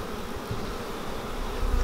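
Honey bees swarm around an open hive where they build honeycomb, making a dense, continuous close buzzing that holds steady throughout and swells slightly toward the end.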